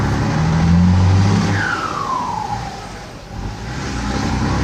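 A Ford F250 truck engine roars nearby with a deep, steady rumble, a rising-then-falling whine sweeping over it before the note settles back into a continuous drone.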